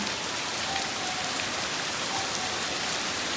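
Dense, steady rain pours down with a constant hiss and patter, heavy and unbroken, with no voices.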